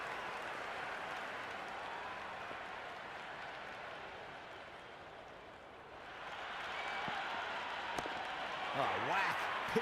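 Loud, steady crowd roar from a cricket video game stadium swells and fades over several seconds and then rises again, a continuous wash of cheering with a brief louder burst near the end.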